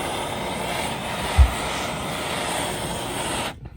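Heat gun blowing hot air onto the inside ends of a plastic kayak being prepared for plastic welding, a steady loud roaring whoosh throughout with a brief bump midway before it cuts off near the end.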